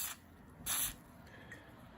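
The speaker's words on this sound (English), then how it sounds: "Let's start with some penetrating oil." Penetrating oil sprays from a can in short hissing bursts while working on a 1964 MGB dashboard, a brief puff followed by a longer, louder spray, close and quiet otherwise.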